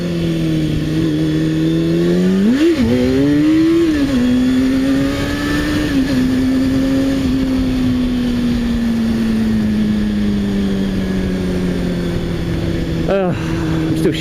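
Suzuki SV twin-cylinder motorcycle engine ridden hard, a loud steady engine drone held close throughout, with a brief rev surge early on and a gradual easing of pitch, wind noise running underneath.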